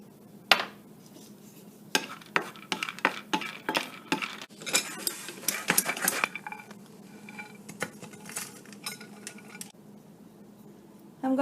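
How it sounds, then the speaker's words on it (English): Peanuts and coriander seeds being roasted in a pan, with a series of sharp clinks and scraping taps of a utensil stirring against the metal, in irregular bursts over quiet kitchen background. "I'm going to roast the peanuts now."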